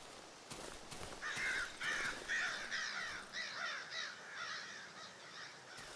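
Crows caw repeatedly in Darkwood, the survival horror game, harsh calls coming in overlapping bursts over a steady low ambient hum.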